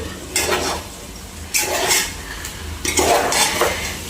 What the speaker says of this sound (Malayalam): ആ ചിക്കൻ ആഡ് ചെയ്ത് കൊടുക്കുക. ഇങ്ങനെ ആഡ് ചെയ്യുക. അതിൻ്റെ ശേഷം വീണ്ടും ഒന്ന് ഇളക്കി കൊടുക്കുക.